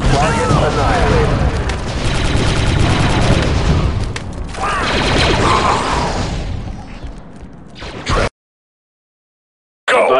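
Explosive charge blast and gunfire in Star Wars Republic Commando, heavy booms and bursts of shots rumbling loudly over several seconds before cutting to silence, with voices mixed in.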